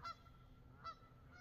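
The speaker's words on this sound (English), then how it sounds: "I'm gonna listen to the geese a little bit more." Geese honking at a farm, two faint distant honks about a second apart over low background rumble, with a softer call at the end.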